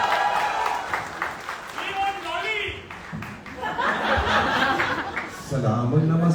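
Crowd at a live Bollywood event for the film Pathaan applauding and chuckling for director Siddharth Anand, a steady wash of clapping and laughter mixed with overlapping voices throughout.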